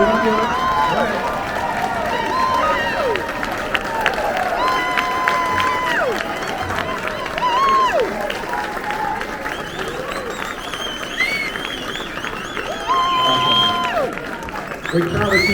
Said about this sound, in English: Let's give them a standing round of applause